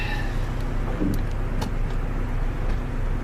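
A car engine runs steadily during manual-transmission driving practice, a continuous low rumble of acceleration heard from inside the cabin with no talk over it.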